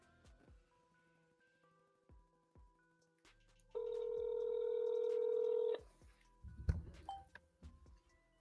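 Telephone dialing with a long steady tone lasting about two seconds between soft clicks and button taps, followed by a brief higher beep, quiet and close with no talking.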